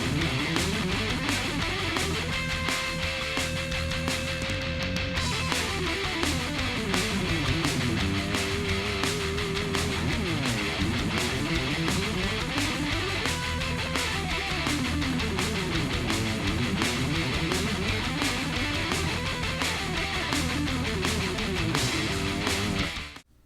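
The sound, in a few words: guitar scale exercise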